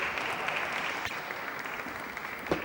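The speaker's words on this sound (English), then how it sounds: "the crowd getting behind the boy" A crowd at an indoor billiards quarter-final of the Russian Open in 2012 applauds steadily, a dense continuous clatter of clapping with no voices over it.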